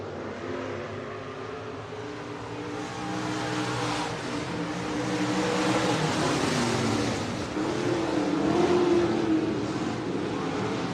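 Stock cars racing at Buena Vista Raceway, a steady loud roar of several engines droning together, swelling louder toward the middle and end as the pack passes near.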